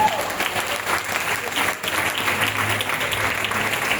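Steady applause at a spiritual retreat, the congregation clapping in acclaim of the Lord, dense and continuous for several seconds with a brief dip midway.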